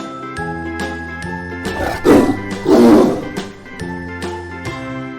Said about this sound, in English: T for Tiger.